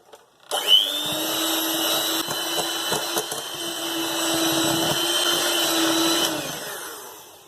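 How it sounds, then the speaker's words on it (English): An electric whisk beats fruit cake batter made with sugar, starting abruptly with a steady high motor whine that holds for several seconds before cutting off, close and loud with no speech. "And I'm going to whisk it for 3 minutes."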